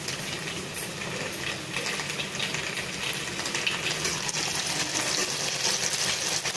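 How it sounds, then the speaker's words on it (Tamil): Vegetable Manchurian balls deep fry in hot oil, giving a steady, moderately loud bubbling hiss that swells slightly toward the end. "காய வச்ச உடனே நம்ம பால்ஸ் மாதிரி செஞ்சு டீப் ஃப்ரை பண்ணிடலாம்."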